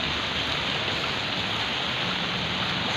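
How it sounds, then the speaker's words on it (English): A dense, unbroken downpour during a typhoon in Manila, a constant hissing wash of rain with no pauses and no voices. "What a rain."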